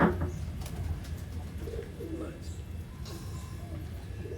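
Soft, low pigeon coos repeat a few times close by, with faint background noise and some movement sounds.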